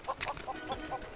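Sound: chickens clucking in Lego Worlds video game

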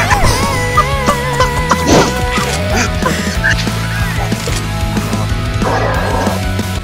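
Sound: chickens clucking in video game CS:GO

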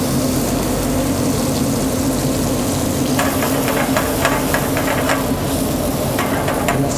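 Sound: leek sautéing in oil in a pan

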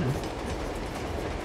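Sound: moving train in the video game Uncharted 2

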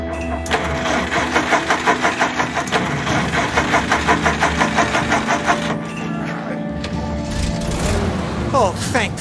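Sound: car engine starting and idling, from the video game As Dusk Falls

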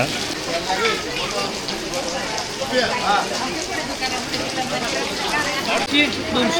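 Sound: rain falling

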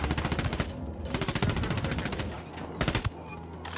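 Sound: gunfire in video game Ghost Recon Wildlands

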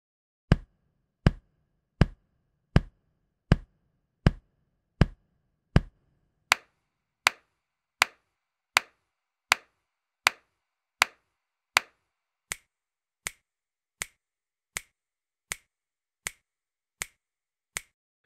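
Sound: body percussion: chest pats, hand claps, finger snaps

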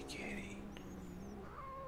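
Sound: cat meowing in video game Murdered: Soul Suspect

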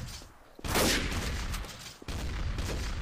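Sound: gunshots in video game Garry's Mod TTT

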